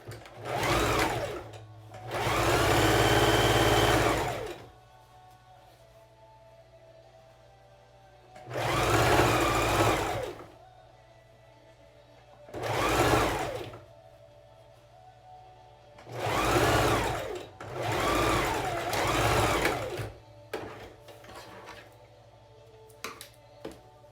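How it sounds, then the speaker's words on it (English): Sewing machine stitching a quarter-inch seam on a kids' fabric face mask, running in several loud bursts of a few seconds each, separated by brief pauses, with no talking. "So pin, and then just sew right down."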